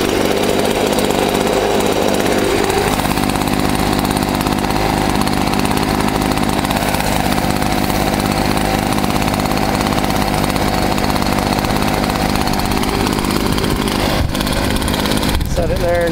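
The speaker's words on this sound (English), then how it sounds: "you could take a leaf blower" A small two-stroke leaf blower engine idles steadily and loudly throughout, with a low rumbling drone, a brief rise partway through and a clatter near the end.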